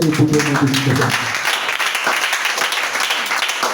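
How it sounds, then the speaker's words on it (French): A church congregation breaks into applause during a worship service, dense steady clapping from many hands nearby, with a short stretch of voices or music at the start. "Je veux qu'on acclame Jésus ce soir."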